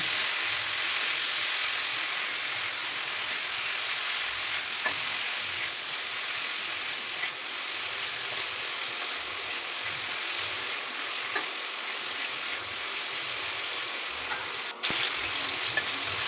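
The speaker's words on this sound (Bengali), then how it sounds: "আর বরবটি এবার আমি পুরোটা একসাথে ভাজব" Long beans and vegetables fry together in a pan at home, a steady close sizzle and hiss that runs unbroken throughout with a few faint clicks and no talking.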